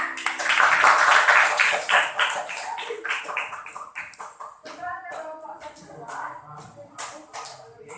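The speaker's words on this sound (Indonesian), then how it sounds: "Oke, kita tepuk tangan untuk kita semua." A group of people in a classroom activity clapping their hands together, a fairly close flurry of claps that peaks early then thins into scattered taps, with talk mixed in.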